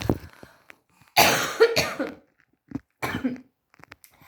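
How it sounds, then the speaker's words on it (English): Harsh, close coughing comes in three separate bursts, the first long and rasping, with short breathy pauses and throat noises between them. "I have to deal with this cough"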